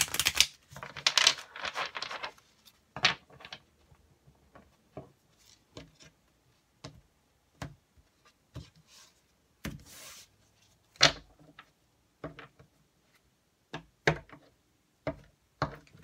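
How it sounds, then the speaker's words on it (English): Cards shuffled by hand in close, scattered bursts: a quick riffle flurry at first, then sparse taps and flicks with quiet gaps between. "I'm just going to shuffle quickly and then we'll get into it."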